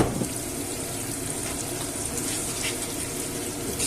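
Water pours steadily into a pot in a continuous splashing gush for several seconds, close by, with no talking.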